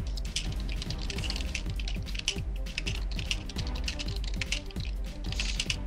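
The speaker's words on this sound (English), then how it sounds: "Look at that fast typing going on." Rapid, continuous typing on a computer keyboard, with dense and even keystroke clicks close to the microphone. No voices are heard.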